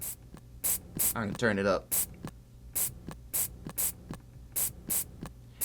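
A drum sample recorded on a PO-33 pocket sampler plays back as a steady pattern of short, crisp hissy hits, with a brief spoken phrase partway through.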